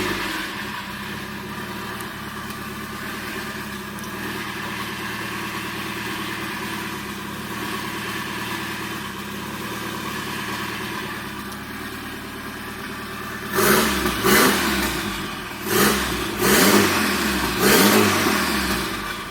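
A 2.3 liter stroker engine in an Evo Wagon runs on first start, holding a steady rough idle close by, then blipping through several sharp revs near the end.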